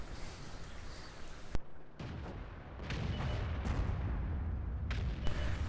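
Tank gunfire in World of Tanks comes as heavy booming shots and a sharp crack over a constant rumbling engine and battle din, loud and dense throughout without speech.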